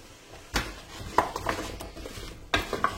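Cubes of peeled pumpkin tipped into a hot pot for a pumpkin and gorgonzola velouté, a few clattering drops and scrapes of a spoon against the pot over a faint sizzle.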